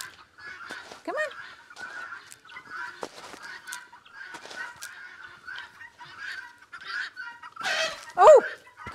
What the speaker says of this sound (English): Rooster, you scared me